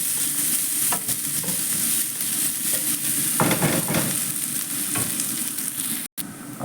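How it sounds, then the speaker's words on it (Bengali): Onions and raisins fry in a pan with a steady, close sizzle while they are stirred, and scraping strokes recur throughout. The sound breaks off briefly near the end. "আমি পেঁয়াজ ভাজাটা করছি তো মুরগির উপরে দেওয়ার জন্য"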